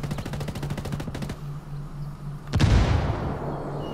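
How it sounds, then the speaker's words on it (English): Rapid gunfire in Ghost Recon Wildlands cuts off, then after a short lull a grenade detonates with a sharp, heavy boom and a long rumbling decay, loud and close. "Grenade."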